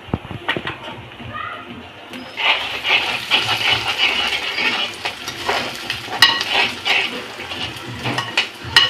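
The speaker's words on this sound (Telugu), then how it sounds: "కరివేపాకు వేస్తున్నానండి." Curry leaves drop into hot oil in a pan while a garlic chilli dish is cooked, bursting into a loud, broad sizzle that crackles on steadily after a few quiet seconds, with a voice speaking over it.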